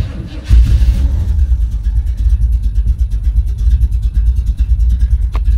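A 1986 Chevrolet Suburban dually's engine runs steadily after a distributor adjustment, a loud, continuous low rumble with a rough, uneven idle pulse close by, with a brief clatter near the start and no talking.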